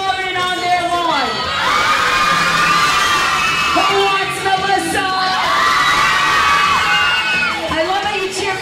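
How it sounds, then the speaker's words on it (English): Loud crowd of children and adults cheering and whooping for twins as names are called, with swelling shouts rising and falling over about nine seconds and a voice speaking over the noise. "I love how you cheer for every single twin the same amount"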